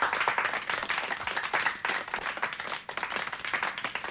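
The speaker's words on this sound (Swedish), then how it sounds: "Åh, en applåd." Brisk applause from a party crowd in a Pelle Svanslös story, dense steady clapping at moderate distance that runs throughout without pause.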